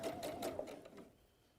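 Sewing machine stitching forwards and back through thick layers to secure a seam, a brief close whirring burst with rapid stitch pulses that winds down and stops.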